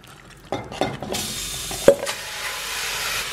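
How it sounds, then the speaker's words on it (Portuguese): Pork leg meat hits hot oil in a pan with a sharp sizzle that settles into steady frying, with a few clanks of a utensil stirring in the pan. "Em uma panela, vou colocar um pouco de óleo e começo fritando o nosso pernil."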